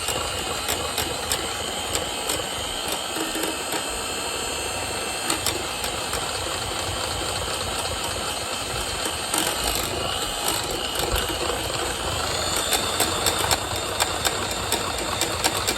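An electric mixer whips homemade body butter at a raised speed, a loud continuous motor whir with a rattling, mechanical edge that holds steady throughout.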